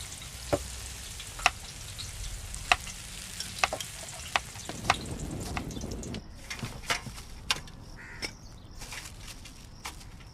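Jantikalu, the murukku snack, frying in hot oil with a steady low crackle and sizzle, punctuated by sharp clicks and clinks at intervals, and a brief louder burst of bubbling around the middle.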